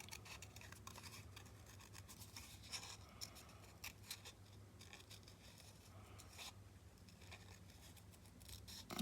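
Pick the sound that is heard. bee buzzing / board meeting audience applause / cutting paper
cutting paper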